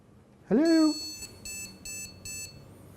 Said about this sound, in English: most computers beep once to let you know that they've booted up properly.